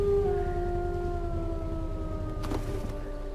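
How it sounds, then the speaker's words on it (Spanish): A wolf howl from the video game Far Cry 4, sustained tonal wails rising and falling over a steady low game ambience, moderately loud and without talk. "Si es que parecía un aullido real."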